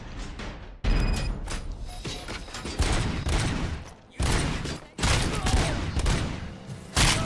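Sustained gunfire bursts from the Robocop Rogue City video game, loud rapid volleys with brief pauses between them, running across the whole stretch with no talk.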